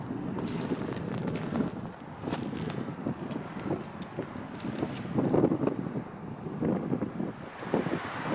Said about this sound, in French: Il commence à y avoir pas mal de vent.